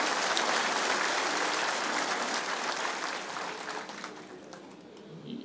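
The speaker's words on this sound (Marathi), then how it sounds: "आपण सर्वांनी टाळ्या वाजवून पहिल्यांदा पवार साहेबांचं या ठिकाणी स्वागत करा" A crowd applauds continuously at a political gathering of the Nationalist Congress Party (Sharad Pawar faction), welcoming a leader on stage. The dense clapping is loud at first, then gradually thins and softens toward the end.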